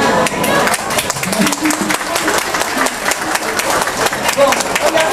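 An audience applauds Chilan, steady dense clapping from a crowd filling the whole stretch, with voices mixed in beneath.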